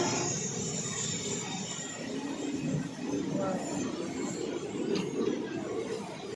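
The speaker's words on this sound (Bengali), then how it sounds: "আমাদের ট্রেনটা এর ব্রিজের উপর দিয়ে যাবে" A train rolls over an iron bridge near Farakka with a continuous rumble and rattle of the wagons, faint wheel squeals and a high whine running through it, heard from onboard at a steady level.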